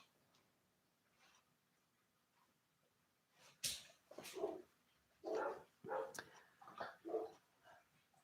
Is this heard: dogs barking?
yes